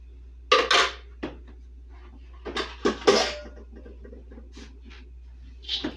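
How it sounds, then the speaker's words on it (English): Chopped almonds poured into a mixing bowl of regular oats while baking at home, a few clattering, rattling bursts of nuts hitting the bowl, close, with quieter scrapes between. "to that I'm going to add my 6 cups of almonds that I chopped up"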